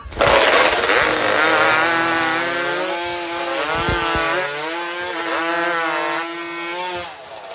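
A racing hot saw roars at full throttle through a timber block during a men's semi-final at outdoor lumberjack games, its engine screaming loud and sustained with wavering pitch for several seconds.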